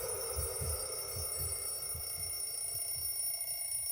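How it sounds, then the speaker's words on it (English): Loud, steady ringing tone in the game Everlasting Summer, a high whine held throughout over a soft throbbing pulse repeating roughly twice a second, with no voices. "I woke up with a hellish ringing inside my head."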